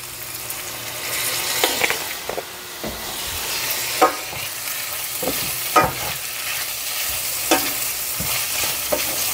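Ground UnMeat with potatoes and carrots sautés with oyster sauce and soy sauce in a pan, a continuous close sizzle broken by repeated scraping strokes of a spoon stirring the mixture.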